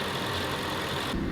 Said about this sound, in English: that engine sounds immaculate